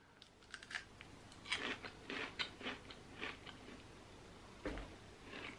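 Someone bites into and chews a Butterfinger peanut butter chocolate bar, giving a series of close, crisp crunches in uneven bursts with a final loud crunch near the end, and no talking.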